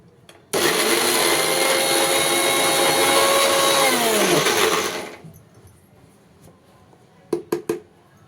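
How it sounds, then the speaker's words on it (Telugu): A mixer grinder roars loudly for about five seconds, its whirring pitch shifting as spices for prawn chilli powder are ground, then stops, followed by a few sharp clatters. "మళ్ళీ ఒకసారి మిక్సీ పట్టాలి"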